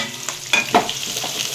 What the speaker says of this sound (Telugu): ఇది బాగా హైలో పెట్టుకొని వండేసి ఇలా కలుపుకొని